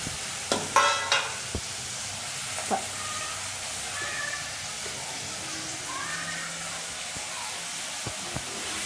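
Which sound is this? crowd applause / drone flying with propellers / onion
onion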